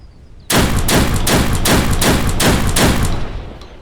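Seven rapid, loud gunshots from a seven-shot gun in the video game Deadside, fired in an even, steady rhythm after a quiet start, each crack sharp and close, with a short ringing tail after the last shot.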